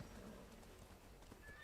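Horse hooves clip-clop alongside a neigh in the online role-playing game Black Desert Online, set against a steady, busy background of game sound.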